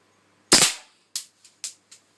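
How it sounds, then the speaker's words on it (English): Gas blowback airsoft pistol fired at a Pepsi can set up beside a target: one loud, sharp crack with a short decay, followed by four quick, fainter ticks and clicks within a second and a half. "let's take a shot at the can over there"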